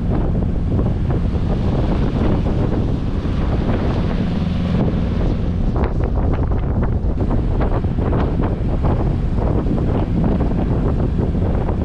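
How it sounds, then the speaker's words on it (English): Steady, loud wind buffeting the microphone over churning waves as a boat rocks across a choppy sea off the Dominican north coast, continuous roar throughout with no talk. "The boat is rocking hard."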